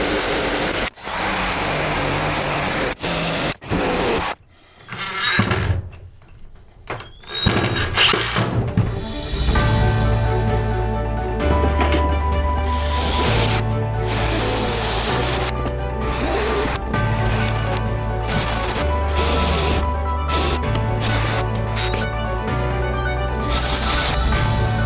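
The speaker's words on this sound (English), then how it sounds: "I need to put a pilot hole for my pilot hole. So I'm doing 2 drills to get through and eventually screw it in." A power drill bores pilot holes for metal screws in the wall of a box truck being converted, its motor whining loud and steady with short stops and restarts, close up and with no voices.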